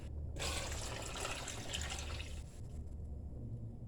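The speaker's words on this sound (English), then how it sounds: "So I'm gonna throw the cold water in there and it's gonna sink." Cold water poured from a container into a pot of cooking rice and peas, a steady loud rushing splash lasting about two seconds before easing into a quieter trickle and settling.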